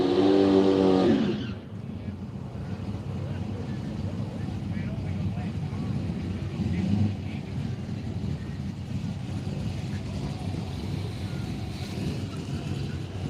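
Cars drag racing at Willowbank Raceway in Australia, including a BF Commodore, rumble in the distance as a steady engine drone after a brief burst of commentary over the track's public address system.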